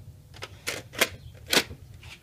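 Inside a 1987 Sears VHS camcorder, the tape mechanism clicks and clunks as it runs with a cassette, giving several sharp mechanical snaps at irregular intervals over a faint hum.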